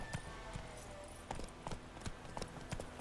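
Horse hooves trot in The Witcher 3, a quiet, steady clip-clop at a regular rhythm across the whole stretch with faint background ambience.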